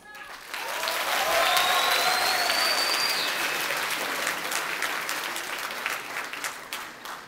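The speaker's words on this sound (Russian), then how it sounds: "Ваши аплодисменты «Импульс»." A KVN comedy audience applauds the team Impulse in a hall: a dense, loud, sustained burst of clapping that swells quickly, holds steady, and slowly thins out.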